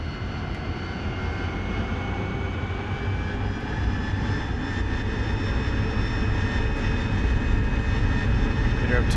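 AV-8B Harrier jet engine held at takeoff power for a conventional takeoff in the DCS flight simulator: a loud, steady roar with a broad low rumble and a sustained high whine, unbroken and building slightly throughout.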